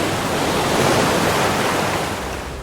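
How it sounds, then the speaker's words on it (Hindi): Strong ocean waves crash and roar in a loud, continuous wash of surf at evening, swelling and then easing slightly, with no voices. "समंदर की लहरें इतनी तेज जैसे आसमान टूट रहा हो।"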